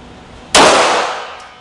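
A single sharp pistol shot from a Walther PPQ at an outdoor target range, a loud sudden crack with a ringing decay lasting about a second.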